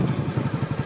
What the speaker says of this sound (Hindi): ये देखो थोड़ा झटका दिया पर बाइक चल रही है